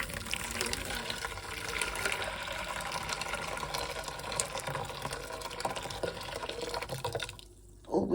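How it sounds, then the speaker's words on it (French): Boiling water pours steadily in a continuous close gushing stream for several seconds, stopping briefly near the end before a little more splashes. "Eau bouillante."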